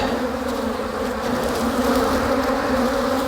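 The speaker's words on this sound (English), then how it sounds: "I've got them just buzzing me and hitting me, bumping me" Honeybees from a hive buzzing close around a beekeeper during a requeening inspection, a loud, dense, continuous drone that swells slightly without pause.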